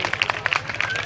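An audience at a youth edutainment speech claps for their parents, a short burst of scattered hand claps with crowd babble behind it.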